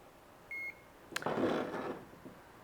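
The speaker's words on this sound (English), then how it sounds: "You'll wait for a beep" A SmartCamber wheel-alignment gauge gives one short, clean electronic beep during calibration, followed by a duller scuffing and handling noise close by.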